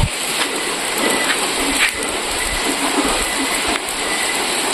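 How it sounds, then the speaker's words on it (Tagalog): Steady rain pours down and grows heavier, a dense continuous hiss with a few brief spatters and faint low rumbles, close and fairly loud with no talk. "Ayan umuulan. Mas lalo silang lumakas."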